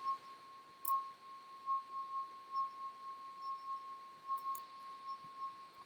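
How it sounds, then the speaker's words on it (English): A wet finger rubs the rim of a wine glass, drawing out a steady, faint, pure ringing tone that holds unbroken, with a few soft clicks over it, used as stage sound for a play. "It's rubbing a glass rim."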